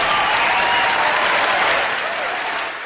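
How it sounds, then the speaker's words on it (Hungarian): Journalists in a press room applaud together, a dense, steady wash of clapping that holds strong and then eases slightly toward the end, with no voices over it. "Erre viszont a jelenlévő újságírók tapsal reagáltak."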